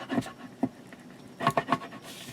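Paper being burnished down by hand at the gusseted edges of a handmade ocean-themed mini album, heard as a few short close scratchy rubs, one early stroke and then a quick cluster of three or four.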